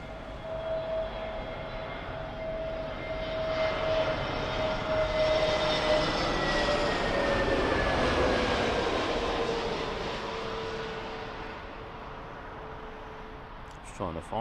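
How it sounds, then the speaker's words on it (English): Iberia Airbus A320 jet airliner arriving from Madrid onto Heathrow runway 27L, engine whine and rushing roar swelling as it passes overhead and then fading, with a voice talking faintly at times. "Iberia from Madrid, A320"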